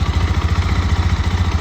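A 250cc fuel-injected motorcycle engine idles loudly and close, with a steady, low, rapid putter and no other sounds.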